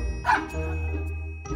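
A dog gives a single short bark near the start, followed by a brief faint ringing tone over a low background hum.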